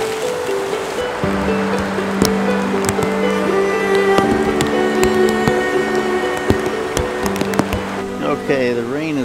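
A creek near a stone arch bridge flows steadily nearby, a constant rushing wash with small splashes and clicks, while someone speaks over it.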